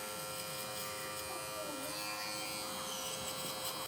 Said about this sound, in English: now we're gonna go on with the clipper closed, just to set in a bald line